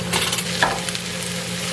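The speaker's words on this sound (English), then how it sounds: "Medium heat, pan on the hob, spray it, now add your veggies." Vegetables hitting a sprayed pan over medium heat on the hob, a steady close sizzle with a brief clatter and scrape as they go in, no talking.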